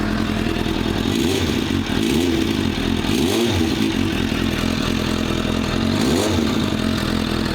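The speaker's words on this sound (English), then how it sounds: "It sounds like clutch plates being loose and they rattle." A motorcycle engine idles close by with a persistent metallic clatter and rattle attributed to loose clutch plates, steady and loud with slight rhythmic swells.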